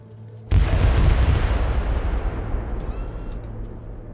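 A single loud mortar blast from a video game hits abruptly, then rumbles and decays slowly over a few seconds, with a faint metallic shimmer late in the tail.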